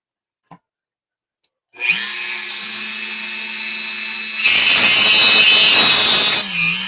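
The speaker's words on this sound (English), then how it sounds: "all I'm going to do is just readjust this so it drills a little bigger hole up" A power drill runs steadily to enlarge a hole for an LED plug, starting after a brief click, then rising in pitch and loudness as the bit bites in before easing off near the end; no one talks.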